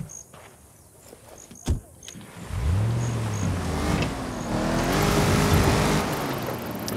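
A car driven in the Narco Road DLC video game: a soft click, then an engine revs up from about three seconds and holds a steady, rising drone with shifting pitch, loud and close, under faint background insect-like chirps.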